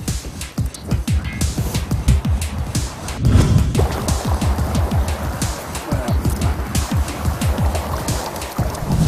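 Fast mountain stream of clean water near Çubuk, Ankara, rushing close by in loud, uneven surges with a low rumbling churn, no voices.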